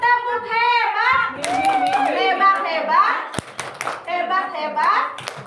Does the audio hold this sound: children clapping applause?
yes